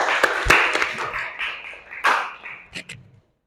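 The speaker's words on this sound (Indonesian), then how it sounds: "Bagus ya, tepuk tangan." Students clapping hands in an Islamic studies class, a brief uneven round of applause that fades, with a couple of sharp final claps near the end.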